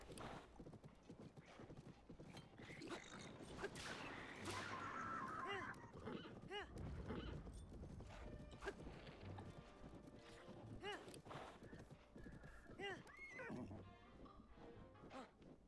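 Hooves clatter and a horse whinnies in Zelda: Tears of the Kingdom as it stumbles on a mountain. The sounds are faint and sit within dense game audio, with talk overlapping.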